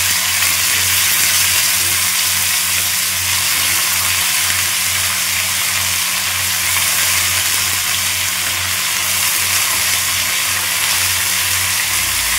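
Bottle gourd, paneer and mixed vegetables fry in a pan, a steady loud hiss of sizzling that continues without break, close up and with no talking.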